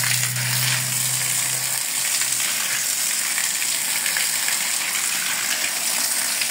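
Water gushes steadily into a small homemade concrete pool of 3 by 2 metres finished with Bali stone, a dense continuous rushing spray close by with no voices.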